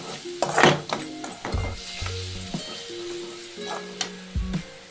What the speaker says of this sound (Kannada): ಇದನ್ನೆಲ್ಲ ನೀಟಾಗಿ ಮಿಕ್ಸ್ ಮಾಡ್ಕೊಳ್ಳಿ